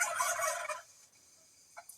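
A group of turkeys gobbles in a loud burst of rattling calls lasting under a second, followed by quiet and one or two short, fainter gobbles.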